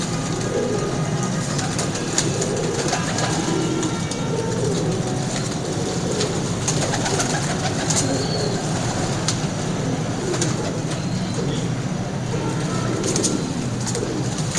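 Pigeons coo softly against a constant rumbling background noise, with a few sharp clicks scattered throughout.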